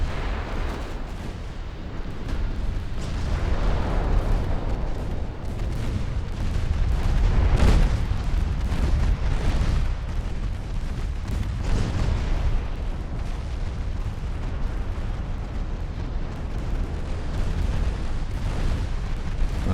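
Naval guns fire in the warship game Ultimate Admiral Dreadnoughts, a constant rumbling barrage of deep booms and blasts rolling on without pause.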